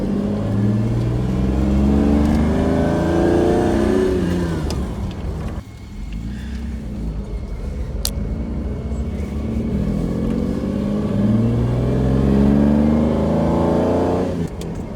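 A sports car engine revs loudly, its pitch climbing and falling through repeated accelerations, with a brief dip midway before roaring up again.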